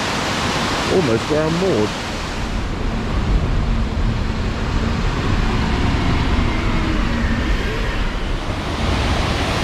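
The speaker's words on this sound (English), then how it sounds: "And this stream runs underneath the canal" A stream flowing beneath a canal gives a continuous broadband rush of water, steady and fairly loud throughout, while someone talks briefly over it near the start.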